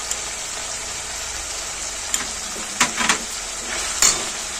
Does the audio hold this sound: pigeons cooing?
no